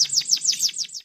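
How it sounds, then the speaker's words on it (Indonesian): A German Harz Roller canary sings its long rolling song, a close, clear series of rapid descending trilled notes repeated about six times in quick rhythm, bright and loud with no other sounds. "Nama roller sendiri didapatkan kenari ini karena kicauannya yang panjang dan ngerol."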